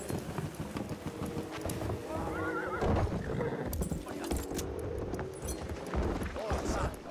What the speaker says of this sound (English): Alright, it's a horse, he's leaving.